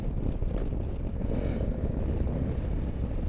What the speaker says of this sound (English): This bike sounds mental, guys.